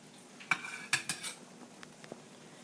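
Boiled potsticker dumplings strained from a pot, with a handful of close metallic clinks and clatters of pot and strainer, then a few softer taps, quiet and without talk.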